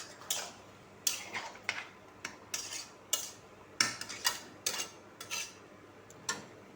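A metal lid set on and lifted off a pot of chicken on a stove, a run of light clinks and taps at irregular intervals, close and clear against a quiet background.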